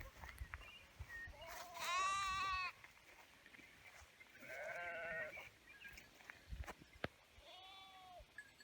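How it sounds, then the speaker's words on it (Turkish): Lambs bleat outdoors in several drawn-out, wavering calls, one loud and near, others softer, with faint birdsong and light wind in the background. "doğanın içerisinde kuş sesleri, kuzu sesleri hepsi bir arada"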